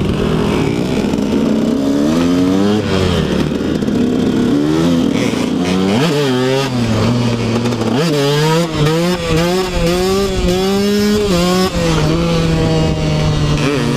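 A 125cc SX two-stroke dirt bike engine revs and shifts repeatedly during an enduro ride, pitch rising and dropping through gears, loud and close for the whole stretch.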